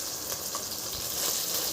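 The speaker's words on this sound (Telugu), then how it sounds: "ఫ్రెష్గా దంచుకున్న అల్లం ఉల్లిగడ్డ పేస్ట్ మంచిగా ఫ్రై చేసుకోవాలి" Freshly pounded ginger and onion paste fries in a pan, giving a continuous, even sizzle that stays close and steady throughout.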